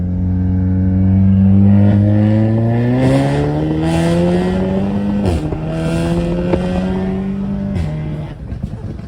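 A 2015 Audi S3 with a stage 2 tune accelerates hard through several rising gear pulls with quick shifts between them, the engine loud and close from inside the cabin.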